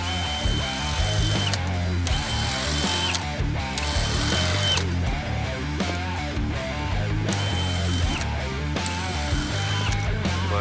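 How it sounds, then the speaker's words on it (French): A battery-powered mesclun harvester runs continuously with a loud, dense mechanical whir and rattling ratchet-like clatter, steady throughout at close range, with no talking. "La récolteuse à mesclun, elle va bien fonctionner."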